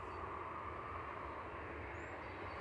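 A jet taking off from runway 23 left at Manchester Airport, a faint, steady distant engine roar and rumble that holds level throughout.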